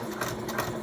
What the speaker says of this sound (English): My stitch length is where it's supposed to be. My needle is down.